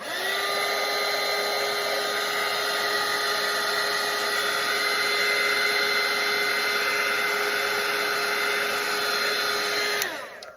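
A hair dryer runs steadily and loudly for about ten seconds, drying a watercolour painting of a monarch butterfly, then cuts off abruptly near the end with no talking.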